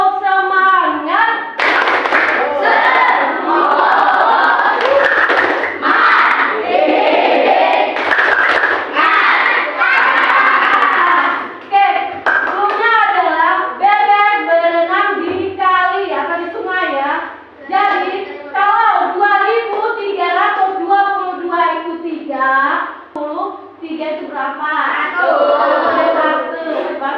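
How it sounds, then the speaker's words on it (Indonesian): A crowd of schoolchildren in an Indonesian classroom claps in a fast rhythmic spirit-clapping pattern with shouted chants mixed in, loud and close throughout. "Tepuk semangat."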